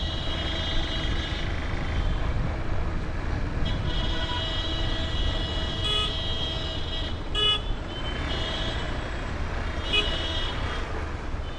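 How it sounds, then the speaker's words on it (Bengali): Vehicle horns honk repeatedly on a hill road during a motorcycle ride to Shivkhola, long steady toots over constant engine and road rumble, fairly loud and near. "এরকমভাবে হর্ন বাজিয়ে যাচ্ছে দেখো"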